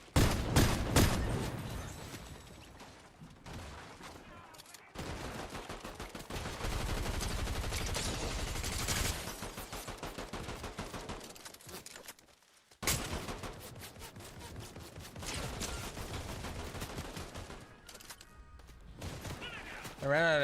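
Video game gunfire in bursts and rapid volleys, loud and close, with stretches of someone talking and brief pauses between the shooting.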